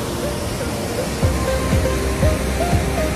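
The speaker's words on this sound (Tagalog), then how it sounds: "Grabe, lakas ng tubig dito oh." Tangle Creek Falls in Jasper National Park, Alberta, Canada, sends strong rushing water past in a loud, constant roar, with faint voices just audible beneath it.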